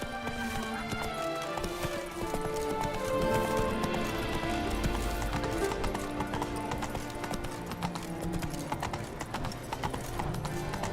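Roach, Geralt's horse in The Witcher 3, gallops in a steady rapid clip-clop of hooves, loud and close, running continuously over a dense background of game music and ambience.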